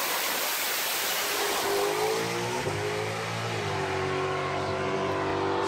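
Supercharged drag race car engine with a soft tune and large pulley combo, running loud and close, a rough idle rising into a revving, wavering tone over a hissy background.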